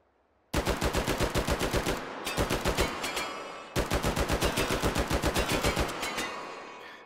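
An HK G11 rifle firing full auto in the VR game H3VR, two long, loud, close bursts of evenly spaced rapid shots with a short gap between them, no talk.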